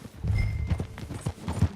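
Horse hooves clip-clop at a brisk rhythm in Red Dead Redemption 2, several quick close strikes heard alone over a short stretch.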